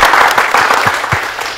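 A short burst of loud, close applause for a university student choir on a studio talk show, a brisk dense patter of many hands.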